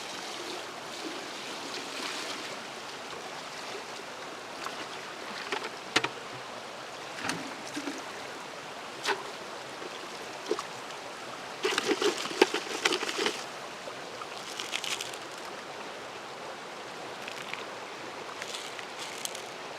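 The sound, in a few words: gravel being washed in creek water while panning for gold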